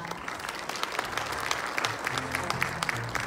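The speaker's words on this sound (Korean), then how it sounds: "여러분 다시 한번 뜨거운 박수 보내주시기 바랍니다" An audience applauds the CTO and engineers at a hardware-accelerated blockchain technology presentation: a dense, steady burst of clapping from a crowd indoors, lasting throughout.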